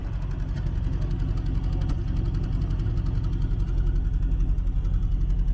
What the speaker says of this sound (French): je vous ai laissé apprécier le son de la Renault, son l'échappement qui était vraiment très joli